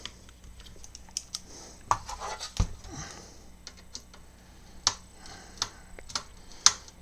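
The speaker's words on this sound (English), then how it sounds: "Once my ratchet screwdriver starts ratcheting" A ratchet screwdriver clicks sharply and irregularly while driving a part into an Infinity Gauntlet model forearm. The close, crisp ticks come in short scattered bursts over a quiet background, with no talk.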